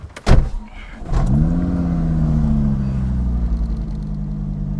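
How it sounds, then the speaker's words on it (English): A 2.5-litre five-cylinder engine in an old, solid-mounted Mk4 Ford Escort thumps briefly, then settles into a loud, steady low idle drone close by, with no one talking. "Even just crawling out, I say, the 5-cylinder distinctive noise"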